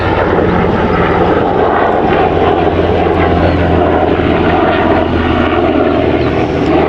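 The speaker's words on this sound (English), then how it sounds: "That helicopter's really loud." A firefighting helicopter flies overhead on a very hot day, its engine and rotor making a loud, continuous roar that holds steady and close throughout, with no voices.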